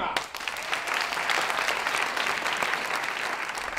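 An audience claps steadily before a children's fairy tale is performed on stage at a festival, a dense, even burst of applause with no voices over it.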